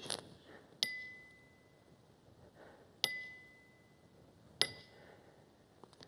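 Three sharp metallic strikes spaced a couple of seconds apart, each with a bright ringing tone that fades away in a quiet room.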